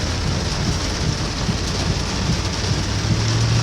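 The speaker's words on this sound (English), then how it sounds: "a lot of rain." Heavy rain pouring onto a road with running water nearby, a dense constant roar of drops at close range, loud and unbroken, with low rumbling underneath.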